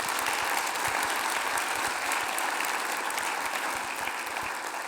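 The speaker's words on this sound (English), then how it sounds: "can we take a minute, a round of applause for the team that made it all possible?" An audience at a health summit gives a round of applause in a large room, with dense, sustained clapping that fills the space evenly for several seconds and eases off slightly toward the end.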